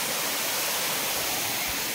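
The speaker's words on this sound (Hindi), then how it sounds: "इधर से भी पानी गिरता है" Water pours down from the Zulpewadi Dam in a steady, loud, broadband rush with no let-up, close by and without voices.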